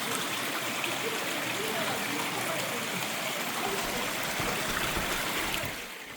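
A rushing stream with waterfalls in a narrow rocky canyon, a steady broadband wash of flowing water, close and loud, easing slightly at the very end.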